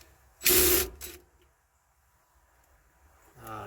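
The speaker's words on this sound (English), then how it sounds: "So now we're going to remove these bolts" Brief loud burst of ratcheting on 8mm bolts securing the fuel pump of a 1999-2003 Acura TL, a dense half-second of clicking followed by a short second pass, then near silence with faint mechanical handling.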